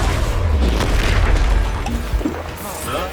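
An Expulso spell blast in the video game Hogwarts Legacy, a loud deep boom that rumbles and then fades, followed by a brief lighter crackle.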